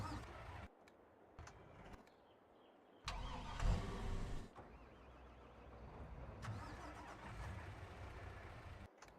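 A truck engine cranking and catching in a farming video game, a short burst of starter noise followed by the engine settling into a steady, moderately loud idle that continues to the end.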